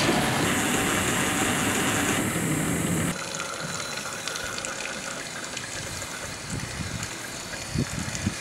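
Water rushes loudly at first through a drain during start-up of an iron and sulfur removal water system, then drops to a softer steady flow with gurgling and occasional knocks.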